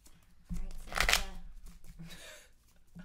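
A deck of Magic cards is shuffled during a casual Two-Headed Giant game, giving close riffling bursts that swell and fade over a few seconds, with faint voices in the background.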